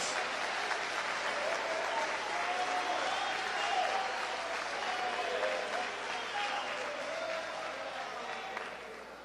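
A large audience applauds in a steady, sustained burst of dense clapping that fades slightly toward the end.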